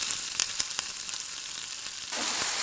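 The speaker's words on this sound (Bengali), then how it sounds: "রসুন বাটাটা ভালো করে দিয়ে এবার ভালো করে এটাকে রসুনটাকে ভেজে নিতে হবে সমস্তটা" Garlic paste frying in a pan with softened onion and tomato for a dhaba-style mutton curry, a steady close hiss of sizzling broken by a few sharp crackles and stirring clicks, louder toward the end, with no talking.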